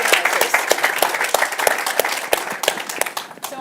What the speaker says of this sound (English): Let's have a round of applause for Roger Zakheim.